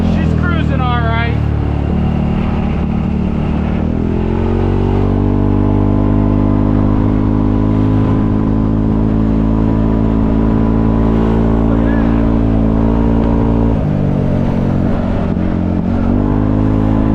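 A CFMOTO ZForce 500 UTV on 28-inch tires runs with a loud, steady engine drone that rises as it revs, staying strong through most of the stretch with a brief dip near the end, while a person talks over it.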